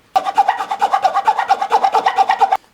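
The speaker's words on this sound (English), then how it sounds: "I'm going to have to just put a little curve in there, a little bit of a file out so you can get your fingers in." A wooden SG-style guitar body being hand-filed to carve a small finger curve: about twenty quick, even rasping strokes in a steady rhythm, close and loud, with no talking.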